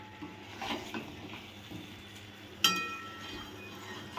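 Chicken sautéing in a pan over a flame with a quiet sizzle, soft scrapes and stirring, and one sharp metallic clink of a utensil partway through, all faint and close.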